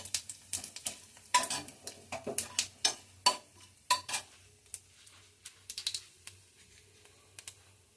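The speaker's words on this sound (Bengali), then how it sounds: "এগুলো দিয়ে একটু ভালো করে ভাজবো" Potatoes with bay leaves fry in a little oil in a pan for dum aloo, with sharp intermittent scraping and clinking taps of a spoon stirring against the pan over a faint sizzle, no talking.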